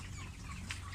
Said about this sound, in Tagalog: andito po ako sa aking mga alagang manok